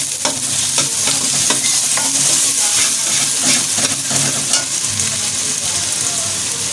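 Loud, dense sizzle of onions frying in a pan for baingan bharta, with continuous stirring and scraping throughout, no voices.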